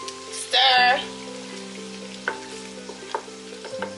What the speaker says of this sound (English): and let it fry for about 8 minutes.